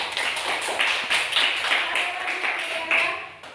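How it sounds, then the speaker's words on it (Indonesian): Classroom applause: a short burst of scattered hand clapping from a group of students, fairly light and uneven, lasting a few seconds. "Bagus, tepuk tangan."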